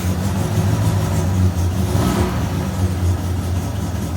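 Triumph Spitfire Mk4 engine on full choke, cold-started and running lumpy: a steady, loud low-pitched idle with uneven firing and a brief swell of revs in the middle, no voices.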